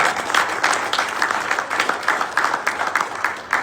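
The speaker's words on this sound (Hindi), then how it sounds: "पहले तो तालियां।" An audience claps at a gathering in India, a dense burst of hand claps with some individually audible claps, fairly loud and continuing unevenly throughout without speech.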